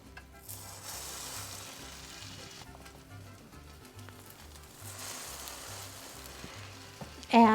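A roasted jalapeño popper grilled cheese sandwich sizzles steadily on a hot griddle, a close, even frying hiss with no voices over it.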